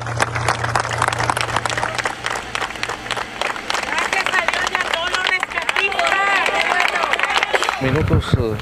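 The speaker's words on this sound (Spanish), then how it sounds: "seguido de un minuto de aplausos" A crowd at a mine entrance in Múzquiz, Coahuila, gives sustained applause after a minute of silence for miners. The dense, continuous clapping runs throughout beneath a voice talking over it.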